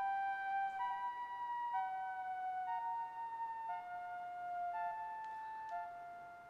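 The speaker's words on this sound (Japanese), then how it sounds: "答えは救急車がやってきたね。" An ambulance siren sounds at a distance in a steady two-tone pattern, alternating high and low notes about once per second, moderately faint with no talk over it.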